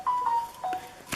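Mobile phone notification chime, two short faint electronic tones in quick succession, heard alone in a quiet indoor room.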